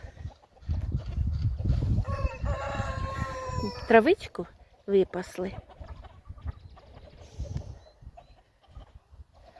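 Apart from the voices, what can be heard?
chickens clucking in a village yard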